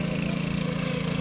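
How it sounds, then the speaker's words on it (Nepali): A tractor ploughing a field during rice-planting season gives a steady, close mid-pitched engine drone with a fast regular throb, running alone without talk. "यहाँ चाहिँ ट्र्याक्टरले खेत जोत्दैछ"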